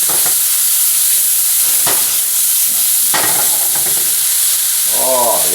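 Wild mushrooms fry in oil in a pan, making a loud, close, continuous sizzle with a few stirring scrapes, while a voice briefly murmurs near the end.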